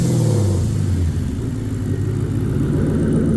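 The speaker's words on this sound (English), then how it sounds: "So we'll go ahead and just give her a couple revs here." A 2004 Mazda RX-8 fitted with a Ford 4.6-liter 3-valve V8 revs up loudly and close, a deep burbling engine note that rises briefly, dips, then holds a steady throaty idle-to-mid drone.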